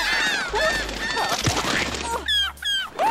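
Cartoon seagulls in a Barbie episode call in a chorus of honking, squawking cries, several close bursts overlapping and trailing off, with short gaps between the calls.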